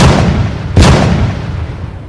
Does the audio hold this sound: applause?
no